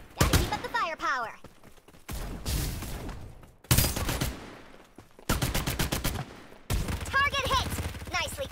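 Gunfire in the mobile multiplayer shooter Farlight 84: loud bursts of rapid automatic fire come in several separate volleys, interleaved with short voiced game announcements.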